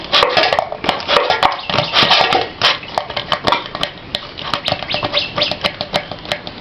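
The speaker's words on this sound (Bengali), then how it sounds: "এরপর আমি ঢাকনা খুলছি" Metal clatter of a pot lid being lifted off a cooking pot while making fried pitha, with a burst of scraping and clinking followed by a series of sharp, close metallic taps and knocks.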